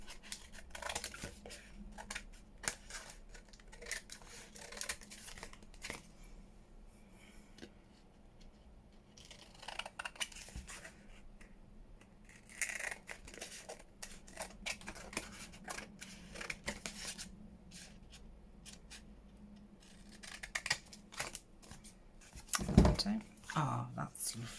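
Scissors snip through paper again and again while junk journal pieces are cut for scrappy belly bands and side tucks, a crafter talking now and then between the close, crisp cuts.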